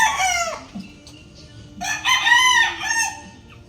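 A rooster crows twice, loud and close, with a short gap between the calls over a quiet background.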